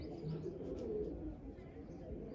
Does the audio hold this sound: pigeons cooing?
yes